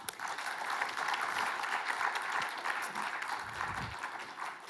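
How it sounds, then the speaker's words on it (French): A crowd applauds steadily for several seconds, a dense, even wash of clapping at moderate volume with no voices on top. "peut se réveiller avec des petits applaudissements"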